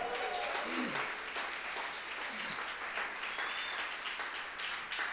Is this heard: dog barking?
no